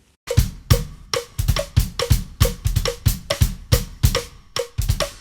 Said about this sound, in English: he's building a solo around a steady quarter note rim click